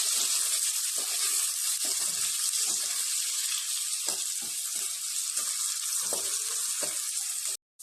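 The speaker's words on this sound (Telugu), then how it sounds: "ఈ ఆనియన్స్ని బాగా ఫ్రై చేయాలి మనం." Onions frying in a pan for mutton akhni, a steady bright sizzle with occasional soft stirring knocks, close and continuous without talk.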